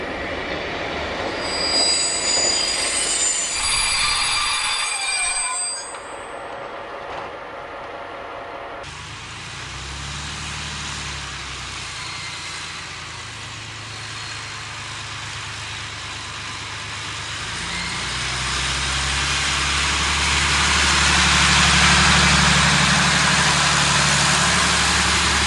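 An SNCF X4750 diesel railcar pulls into Bourg-en-Bresse station, its wheels squealing on the rails, then settles into a steady loud engine rumble that swells near the end.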